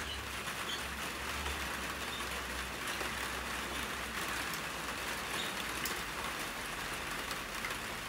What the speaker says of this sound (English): As the rain starts to come down a bit more today, first day of rain in a long time in Melbourne.